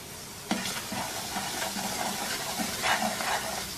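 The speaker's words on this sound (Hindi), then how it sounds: "इसको इतनी देर तक भूनेंगे कि इसकी रंगत जो है वो हल्की सुनहरी माइल हो जाए" Semolina roasting in ghee with green cardamom in a pan on the stove gives a steady close hiss, with soft stirring scrapes at intervals and no talking.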